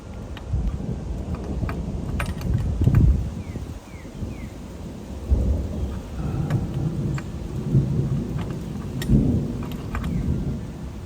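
Thunder rumbles repeatedly over steady rain in an outdoor backyard, with loud low rolls swelling and fading throughout and a constant wash of rainfall underneath, no voices.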